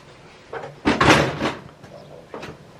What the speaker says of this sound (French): Ça va claquer la porte là